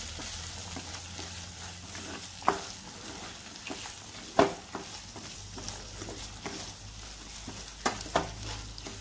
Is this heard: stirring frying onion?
yes